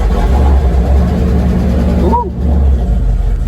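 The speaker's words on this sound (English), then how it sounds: "You can hear my lifters rattling. It's been a while since they've been oiled up." An old truck engine idles with a loud, low, steady rumble that dips briefly in the middle, as a voice lets out a short exclamation over it.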